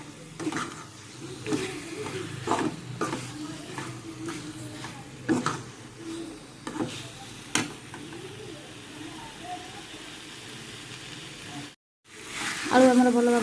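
Potatoes fry in a pan with mustard-based spices, a soft steady sizzle punctuated by repeated scraping stirs, then a brief silence before a louder burst of sound at the end.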